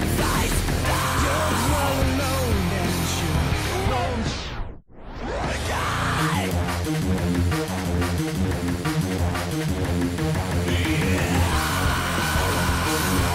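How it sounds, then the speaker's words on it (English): A yell buried in the dense, loud electronic rock mix of a track, sitting behind the full band, with a brief drop to near-silence midway before the music surges back. "That background scream there, actually, I ended up keeping all the way to the end, and it made it to the final mix."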